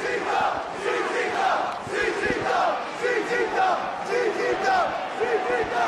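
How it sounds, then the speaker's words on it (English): Sold-out crowd at the CZW Arena wrestling event roars and chants in unison, rhythmic loud group shouting rising and falling in waves, with thumps underneath. "This sold-out crowd at the CZW Arena are on their feet and they're going nuts!"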